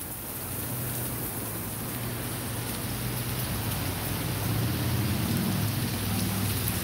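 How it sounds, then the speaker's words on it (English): Heavy rain pours down on a city street at night in downtown Charleston, a dense steady hiss that swells slightly louder toward the end, with no voices. "that rain come fast because that cloud was way back"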